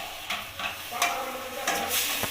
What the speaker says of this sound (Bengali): এবার ভালোভাবে আমি এটাকে নাড়িয়ে নেব